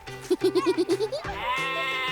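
Young Saanen dairy goats, a Swiss breed, bleat in a quick series of short, pulsing calls, followed by a longer, steady bleat. The animals sound close and fairly loud.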